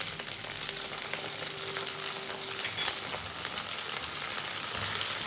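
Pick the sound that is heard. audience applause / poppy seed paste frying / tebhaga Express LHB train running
poppy seed paste frying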